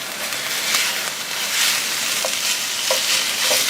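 A pound of ground lamb fries in a pan with no added oil while it is broken up, giving a steady, dense, loud sizzle with faint scraping knocks from the utensil near the end.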